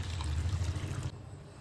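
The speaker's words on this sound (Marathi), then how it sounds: "आता या फिशवर आपण गरम पाणी केलेलं आहे" Hot water poured over pieces of katla fish in a curry masala, a steady trickling splash that runs for about a second and then stops, leaving faint kitchen room tone with no talk.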